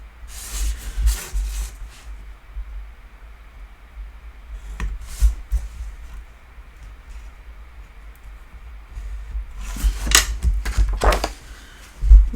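Paper being cut for a handmade book card: short crisp snips and scraping rubs in separate bursts near the start, middle and end, close and fairly quiet, with near-silence between them.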